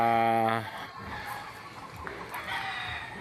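A loud crow from red junglefowl opens, then fades into quieter rustling and distant bird calls under a faint voice.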